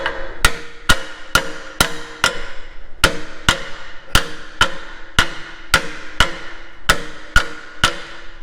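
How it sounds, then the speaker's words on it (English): Metal hammer strikes on an AMI Ruckus rake, about fifteen sharp ringing blows in a fairly steady rhythm, close and loud with short pauses between bursts. "holding the camera and trying to hammer upside down"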